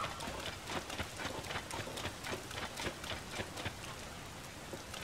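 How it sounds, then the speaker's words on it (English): Rain falls steadily in the video game Zelda: Tears of the Kingdom, a dense, even hiss of drops with faint clopping footsteps mixed in, fairly quiet throughout. "Oh, stop raining."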